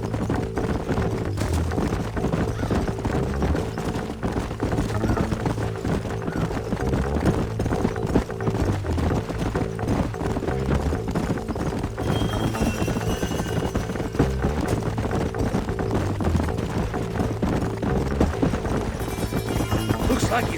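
Horse hooves clip-clop steadily in Red Dead Redemption, a continuous rhythmic trotting under a dense, loud game soundscape with low rumbling and music that persists across the whole stretch.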